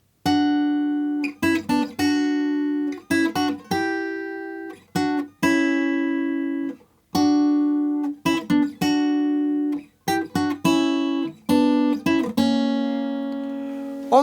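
A fingerstyle acoustic guitar arrangement of a theme from Clair Obscur: Expedition 33 plays a whole line of plucked notes and chords in steady phrases with brief gaps. It sounds close and clear, with no talking.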